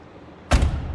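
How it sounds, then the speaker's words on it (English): A 1994 Cadillac Fleetwood sedan door shuts with a single heavy, solid thud halfway through, and a low resonant tail trails off after the impact. "Listen to that door close."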